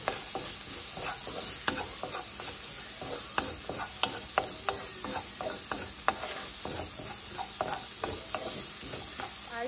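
Onions and garlic sizzle and crackle steadily in a hot pan, with scattered scraping and stirring clicks throughout, close and fairly quiet, with no voice.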